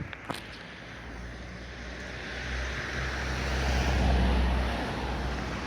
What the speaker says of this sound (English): Apologise for the traffic noise, it's a busy road.